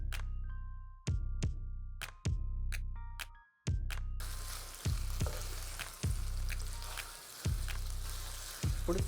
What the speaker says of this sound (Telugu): ఇప్పుడు చికెన్ని కూడా మంచిగా ఫ్రై చేసుకున్నాం.